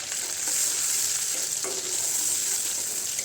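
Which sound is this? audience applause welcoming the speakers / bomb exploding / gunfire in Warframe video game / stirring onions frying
stirring onions frying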